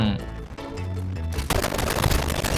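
Rapid automatic gunfire from the mobile shooter Warzone Mobile fires in a loud burst, with bullet cracks and impacts dense near the end. Music or game sounds sit underneath.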